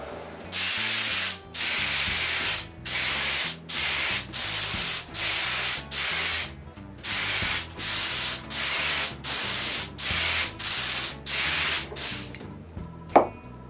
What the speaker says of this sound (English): spray a coat of shellac to seal the wood